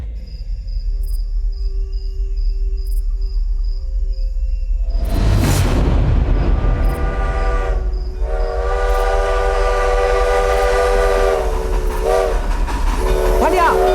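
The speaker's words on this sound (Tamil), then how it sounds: "ரயில் வருது." A steam-era train approaches in a 1945 Indian setting, a rising rumble building into loud rail noise with a long sounding horn or whistle, close and dominant throughout.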